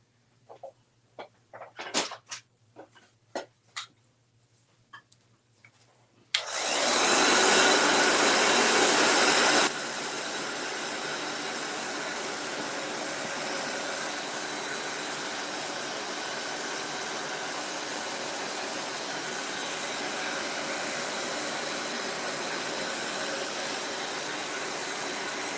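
A handheld dryer roars on abruptly after a few light taps and clicks, blowing steadily and loudly at close range over a DIY painted angel sign, with a brief louder burst before settling into a constant whoosh.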